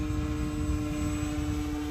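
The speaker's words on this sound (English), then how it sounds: "And this airplane," A Flex Innovations Mamba 10 RC airplane flies in the late evening, its propeller and motor making a steady, even buzzing drone with a constant pitch, heard alone without speech.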